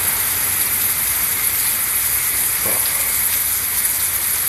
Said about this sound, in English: that whistle there is actually bubbling water